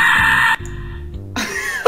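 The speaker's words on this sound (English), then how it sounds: "She just screamed." A woman screams in a casual video game, a loud sustained shriek that cuts off abruptly, followed by quieter game sounds and then another burst of screaming.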